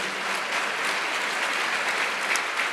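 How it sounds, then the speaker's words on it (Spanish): An audience claps for the actors at a talk session, dense continuous applause from a crowd filling the room at moderate level with no speech over it. "un aplauso por nuestros actores"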